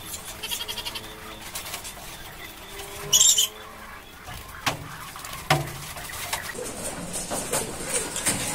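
Pigeons coo softly in low murmuring calls, with a few sharp clatters and wing-like bursts nearby.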